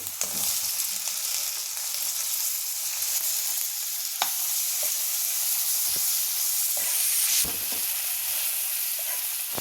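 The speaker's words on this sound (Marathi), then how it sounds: "ह्याला तेलावर फ्राय करून घ्यायचे" Chopped tomatoes and onions fry in oil for a dhaba-style garlic palak paneer, giving a steady close sizzle with a few sharp clicks and pops scattered throughout and no talking.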